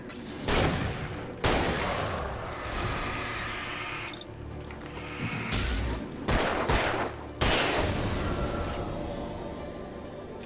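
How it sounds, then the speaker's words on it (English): Gunfire and a flashbang grenade in a video game, several loud sharp bursts and booms spread across the span with rattling fire between them, dense and close, no talking. "We're using the flashbang."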